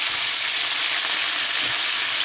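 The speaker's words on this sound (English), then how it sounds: "We just want to get a little bit of browning on it." Meat for a slow-cooker Hungarian goulash sizzles as it browns in a hot pan, a steady broadband frying hiss with faint crackles running throughout, close and continuous with no voices.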